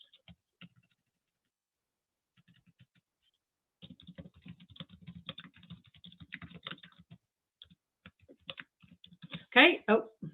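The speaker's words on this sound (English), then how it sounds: "I can't type today." Typing on a computer keyboard, quiet soft key clicks in short irregular runs with pauses, followed by a faint voice near the end.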